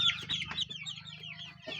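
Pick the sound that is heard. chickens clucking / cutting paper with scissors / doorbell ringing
chickens clucking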